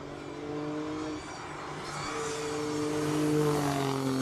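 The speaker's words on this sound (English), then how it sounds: "Alfa Romeo Stelvio" An Alfa Romeo Stelvio Quadrifoglio SUV climbs a hill-climb course at a King of the Mountain speed event, its engine droning steadily with rising revs and gear changes, heard from a moderate distance.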